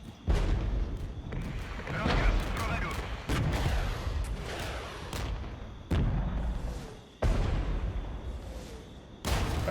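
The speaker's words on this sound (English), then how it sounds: "I say that as they get absolutely ripped by machine guns." Heavy gunfire and booming shots in the Regiments war game, loud repeated bursts breaking out every couple of seconds over a dense battle din, with voices faintly mixed in.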